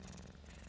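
A pet cat purring steadily as it drifts off to sleep, a soft, continuous low rumble heard close and quiet for a brief moment.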